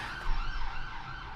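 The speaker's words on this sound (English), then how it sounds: "I won't pause it for the siren." An emergency vehicle siren wails steadily from a middle distance outdoors, its rising and falling tone sustained throughout over low traffic rumble.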